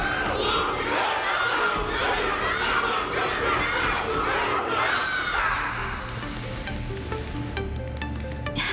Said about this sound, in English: Everyone's cheering for you, Luka.